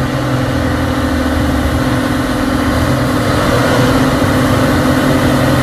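A new Hino tanker truck's engine running on a hill road, a loud, steady mid-to-low drone with constant tonal hum throughout.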